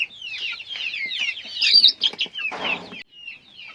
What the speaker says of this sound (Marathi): तर ही कोंबडी आहे ती पिल्लू काढण्यासाठी बसलेली आहे